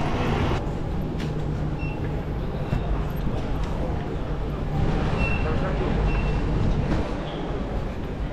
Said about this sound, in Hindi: It is the underground station and this is the St. Pancras International Station.